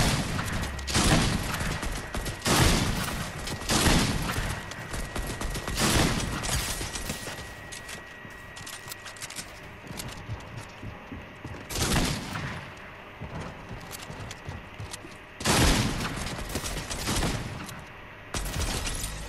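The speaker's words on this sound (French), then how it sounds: "Et il me tire dessus!" Bursts of video-game gunfire in Fortnite, several loud volleys of rapid shots separated by quieter gaps, with a faint steady tone underneath.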